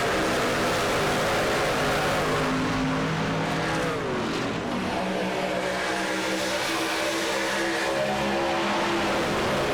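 Race trucks accelerate on a restart at Fontana, a loud, dense roar of several engines climbing through the gears together, with no break for the whole stretch.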